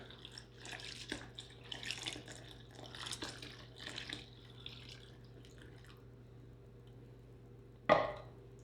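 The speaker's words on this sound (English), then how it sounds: "I am going to add the milk at this point of time. Slowly so we don't splash everywhere." Milk poured slowly into a pot of rice for rice pudding gives a soft, splashy trickle in uneven bursts over the first few seconds, then goes quiet before one sharp clink near the end.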